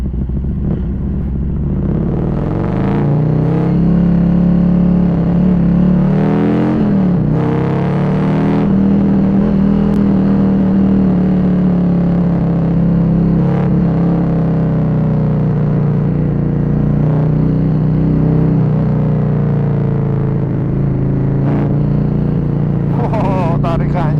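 A Harley-Davidson CVO Road Glide with a 2032 cc Stage IV engine pulling hard as it accelerates, a loud deep rumbling exhaust rising and falling through revs, close up, with someone talking over it briefly.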